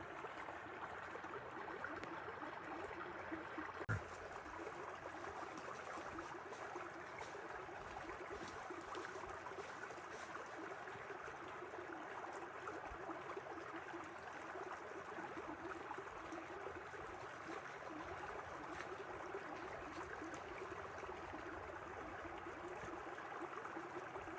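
Steady broadband rush of water flowing continuously, like a stream running nearby, with no talk and an even level throughout.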